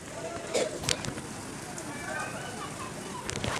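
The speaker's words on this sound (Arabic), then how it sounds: "شايفين حبايبي المطرة" Rain falling on a street in Egypt, a steady hiss of drops on pavement with brief splashes and a passing rustle, heard up close under a low background wash.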